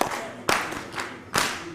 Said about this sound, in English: I think that one deserves a clap.